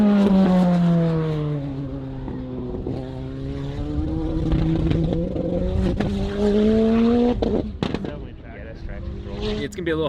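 A race car engine revs hard, its pitch sliding up and down, with choppy stuttering breaks near the end.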